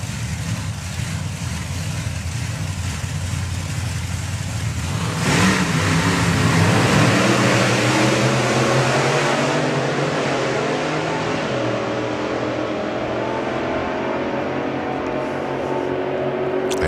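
Supercharged Outlaw hot rods Topolino and Little Hemi Hustler launching in a drag race, engines roaring loud then climbing in pitch as they pull away and fade into the distance.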